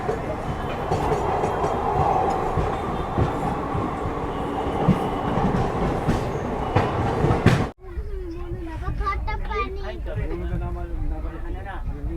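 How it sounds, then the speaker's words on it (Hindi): A train pulls into Katihar railway station. Loud, steady rolling rumble and clatter of wheels on track go on for several seconds, then cut off sharply to a quieter scene with voices talking. "अभी हम लोग की जो ट्रेन है वो पहुंच चुकी है कटिहार रेलवे स्टेशन"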